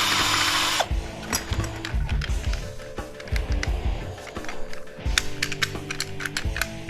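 A power drill whirs in short bursts while backing a screw out of scrap brass hardware, the buzzing pulses separated by clicks and handling clatter, close and fairly loud throughout.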